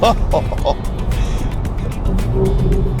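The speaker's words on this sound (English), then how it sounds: "I know it's a 4-cylinder, but that sound is just so perfect." A four-cylinder convertible's engine hums steadily with low rumbling, heard from inside with the top down, with a voice speaking over it.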